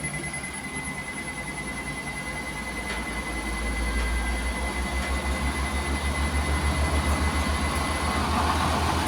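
Loud, steady mechanical whir and rumble of a treadmill running at top speed, with a rhythmic thumping pulse and a thin high whine throughout.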